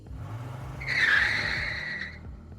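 Car tires squeal in a sustained skid as the vehicle pulls away fast, rising loud and shrill for over a second before fading, with no one talking.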